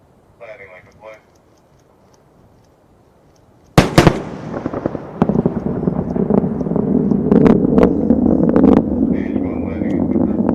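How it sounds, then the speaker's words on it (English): After a brief quiet stretch, a sharp loud boom from a returning SpaceX Falcon 9 booster hits, followed by rolling, crackling rumbles and sporadic pops that build into a sustained roar. "Keeping an ear out for sonic booms."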